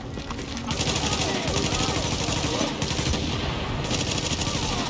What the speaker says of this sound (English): so I have an LMG instead of the shotgun